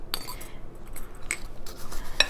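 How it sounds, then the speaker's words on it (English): A spoon scrapes and clinks against a bowl while cinnamon-coated apple and pear slices are stirred, giving a few sharp metallic taps among soft shuffling. "give that a good stir until you can see that all of the slices are coated pretty evenly"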